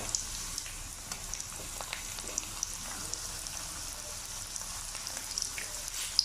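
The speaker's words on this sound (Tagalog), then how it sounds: "Ayan, mainit na yung ating kawali na may mantika. Ilubog na natin itong ating sambusa na ginawa." Sambosa deep-frying in a pan of hot oil over moderate heat: a steady, dense crackling sizzle with fine bubbling pops that runs unbroken and close throughout, with no talking.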